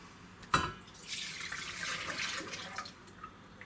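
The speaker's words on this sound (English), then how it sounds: "In a pan on the stove, we're going to put in 900 mils of milk." Milk pours into a pan on the stove: a faint, soft liquid splash and trickle with a brief louder splash near the start, then gentle sloshing that fades out.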